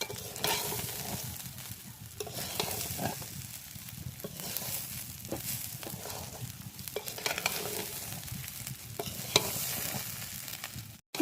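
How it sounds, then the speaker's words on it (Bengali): Rice frying in ghee in a kadai for pulao, a dense steady sizzle with soft stirring scrapes and light crackles, close and unbroken by speech. "ভালো করে আমি চালটাকে ভেজে নেব এই ঘিয়ের মধ্যে দিয়ে"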